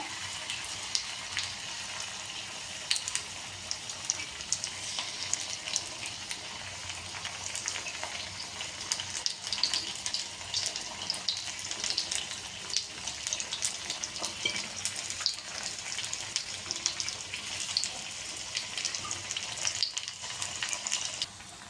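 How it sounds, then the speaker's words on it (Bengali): Sweet pumpkin slices fry in oil over medium heat, giving a steady, dense crackling sizzle that runs on without a break, with faint stirring and turning sounds now and then. "আমি উল্টে পাল্টে ভেজে নিচ্ছি"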